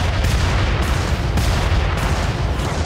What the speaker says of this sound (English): Six missiles each time.